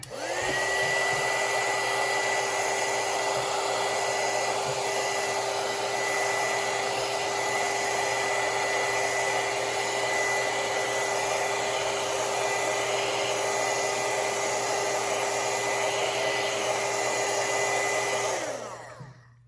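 Heat tool warming the side of a Compaq LTE 5000 laptop battery pack, a loud, steady blowing whine with a constant tone, close and unbroken for nearly twenty seconds before winding down, with no speech.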